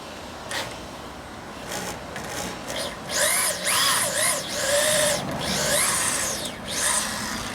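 A power drill turning a reamer on a 1952 Harley-Davidson Panhead rear brake whirs in short bursts, its pitch rising and falling as it bites and grinds, with brief pauses between runs.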